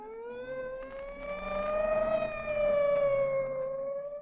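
A police siren wails in a long rising and falling tone, steady and fairly loud, sounding alone with no voices over it.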